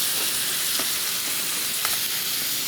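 Lamb sears in a hot pan, a dense, continuous sizzle and crackle with a few brief pops, close and steady throughout, with no one speaking.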